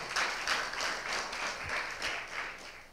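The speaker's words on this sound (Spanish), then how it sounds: "denle un aplauso a nuestro Dios" A church congregation at a home worship service claps in applause to God, a steady, fairly faint patter of many hands with gently pulsing rhythm throughout.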